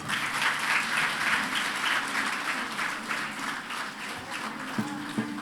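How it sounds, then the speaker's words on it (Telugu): An audience at a Telugu meditation gathering claps loudly and steadily, a dense wash of applause filling the room throughout with a few sharper claps standing out near the end. "గట్టిగా చప్పట్లు కొడదాం."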